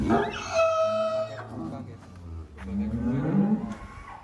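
A white Brahman Cross bull gives a couple of deep lowing moos, with a harmonic call early and a rising bellow near the end, close by on a farm while people talk.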